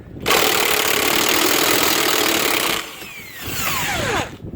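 A power tool whirs loudly and steadily while undoing the U-bolts holding the axle to the spring on an old, crusty vintage camper, then stops and spins down with a falling whine before briefly running again.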